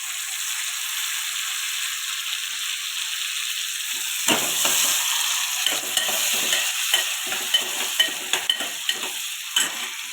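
Onion and tomato frying in a pan for a cashew vegetable curry, with a steady hiss and sizzle and, partway through, a run of stirring scrapes and taps.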